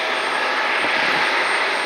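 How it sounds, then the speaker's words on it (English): A United Express Embraer E-170 jet operated by Mesa Airlines runs at night at Cleveland Hopkins airport, giving a loud, steady engine roar with a faint high whine and no talking. "Still wearing the old livery on this E-170 for Mesa Airlines."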